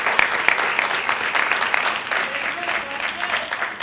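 Audience applause at a school board meeting honoring the valedictorian and salutatorian, steady dense clapping from a crowd throughout, moderately loud with slight swells.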